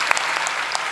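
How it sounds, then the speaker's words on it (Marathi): A short burst of lively audience clapping at a Warkari kirtan, with many hands beating close together in a brisk, uneven patter. "जोरात टाळ्या वाजवा बरं त्यांच्याकरता."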